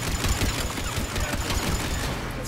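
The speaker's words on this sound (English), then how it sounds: "I can shoot the missiles." Rapid automatic gunfire from a Mass Effect 3 space battle against a Geth Dreadnought, shooting down incoming missiles as a dense, continuous fusillade with no voices.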